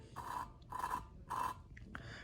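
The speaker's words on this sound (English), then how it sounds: "And you can hear it's already grinding it." Rhythmic abrasive grinding strokes as a valve lapping tool grinds a valve seat in an SR20DET cylinder head, three main rasps in steady back-and-forth rhythm with a couple of faint clicks, close by and fairly quiet.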